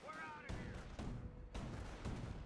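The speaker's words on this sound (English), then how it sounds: "They're firing on our position!" Gunfire and artillery blasts from a real-time strategy video game battle, with dense rumbling bursts of shots and booms running continuously, mixed with voices.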